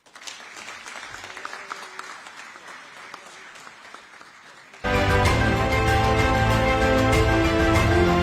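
Hall audience at a political talk applauds after H. Raja's speech, a moderate crowd clapping that is abruptly swamped midway by loud, sustained music with a steady tonal drone layered over it.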